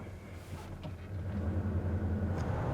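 Inside a 2000 Dodge Ram 1500 4x4 Quad Cab Sport pickup on the move, a low, smooth engine rumble steadily builds with road noise, with no talk.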